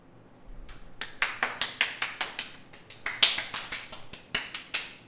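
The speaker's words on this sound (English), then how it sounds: "Huge round of applause." Applause after a talk on rest and recovery comes from only one or a few people: sharp, close, individual hand claps in a fairly steady rhythm of about three per second, with no voices.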